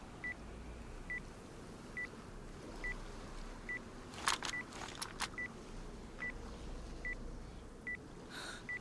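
A DayZ explosive device in a video game beeps in a steady, evenly spaced series of about a dozen short electronic tones at roughly one-second intervals, over a low background rumble with a few brief sharp clicks midway.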